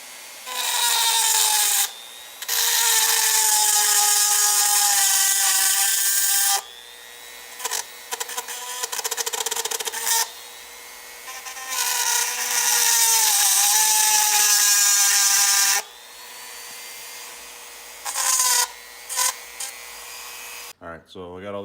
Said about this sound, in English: you just want to shave down maybe 3/4 of an inch of each one of these ribs